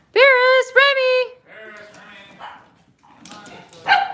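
Cavalier King Charles spaniel puppies and dogs indoors give two high, sustained yelps followed by softer whimpers and whines, close and fairly loud.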